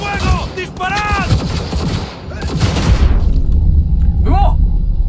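Gunfire in the video game Cyberpunk 2077, a loud barrage of shots and booms mixed with shouting voices and other game sounds, the firing heaviest in the first half before fading into rumble.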